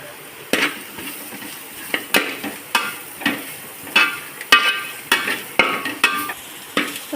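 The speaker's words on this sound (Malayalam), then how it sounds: "മല്ലിപ്പൊടി നന്നായിട്ട് മൂത്തിട്ടുണ്ട്" Coriander powder roasts with turmeric in a pan for a tripe (potty) fry, while a spatula scrapes and stirs close up in a quick, uneven series of sharp knocks and scrapes over a faint sizzle.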